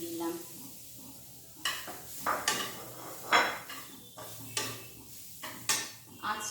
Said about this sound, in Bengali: প্রথমে আমি কড়াইয়ের মধ্যে নারকেল দিয়ে দিলাম।